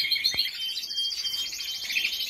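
Caged birds chirping in an aviary, a steady stream of bright, high tweets and trills repeating close by, with a couple of sharp knocks mixed in and no one speaking.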